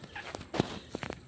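A hen on a farm gives a few short, soft clucks, close and fairly quiet, one slightly louder note standing out in the middle.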